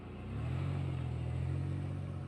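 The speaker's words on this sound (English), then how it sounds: "He took a glance back to see the boy and hurried to get into his car and soon drove off." A car engine rumbling to life and pulling away, a low steady drone rising in the first half-second and then holding as the car drives off, heard alone with no voices.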